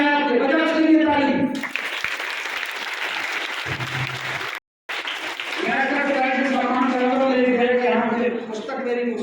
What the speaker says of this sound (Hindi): बजाओ उसके लिए ताली